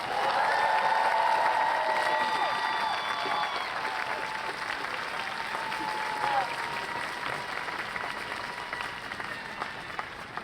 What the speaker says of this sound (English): please join me again in the final round of applause for all of our graduate